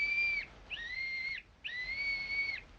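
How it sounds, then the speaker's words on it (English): In a radio drama, a small whistle is blown three times in close succession, each note thin and high, held steady for about half a second to a second. "Blow the whistle quick, Jimmy"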